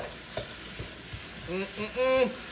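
Ground meat browning in a hot pan for shepherd's pie, a soft sizzle with stirring scrapes that swell into louder frying bursts toward the end, close up.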